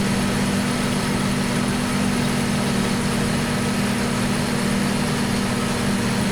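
Steady idling tractor engine from Farming Simulator 2015, a continuous droning hum with a strong low tone, constant and loud throughout with no talk.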